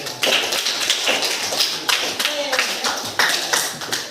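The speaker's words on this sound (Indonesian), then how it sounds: "bagus, tepuk tangan" A small classroom group claps in loose, uneven bursts, close and moderately loud, while a voice talks over the clapping.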